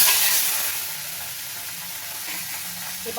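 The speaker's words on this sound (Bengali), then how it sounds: "এবার আমি চিংড়ি মাছগুলো দিয়ে ভেজে নেব" Shrimp sizzle and crackle in hot oil in a home kitchen, a loud, steady frying hiss that eases slightly after the first moment.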